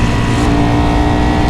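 A Ducati Panigale V4 R with its 998cc V4 engine revs hard, giving a loud, dense, steady mechanical roar up close.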